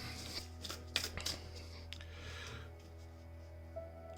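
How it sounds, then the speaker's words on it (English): Quiet shuffling of tarot cards, a few soft riffles and flicks close by over a low background hum. "And I'll shuffle the cards"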